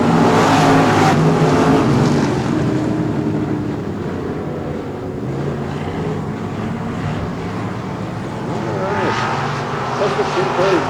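Race cars at Texana Raceway Park during a 2017 Summer Showdown night roar as they accelerate off a green-flag restart, a loud, continuous engine drone with wind buffeting and a voice talking over it.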